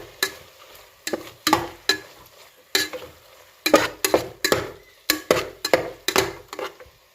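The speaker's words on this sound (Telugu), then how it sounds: "1 స్పూన్ కారపొడి, 1 స్పూన్ ధనియాల పొడి వేసి మళ్ళీ కలపాలి" A spoon stirring chili powder and coriander powder through frying tomato and onion masala in a pan, making repeated bursts of scraping and clinking strokes in an uneven rhythm over a faint sizzle, close up with no talk.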